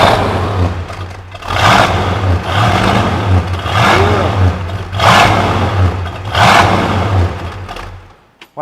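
A Ford Mustang with an older-style exhaust revs hard in four or five rising bursts over a rumbling idle, loud and close, before cutting off abruptly at the end.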